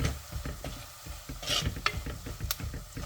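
Fish curry masala with turmeric powder is stirred in a hot pan, a soft sizzle running underneath while a spoon scrapes and taps in short irregular strokes, with one or two sharper clinks of metal.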